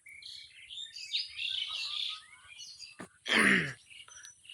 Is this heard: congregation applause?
no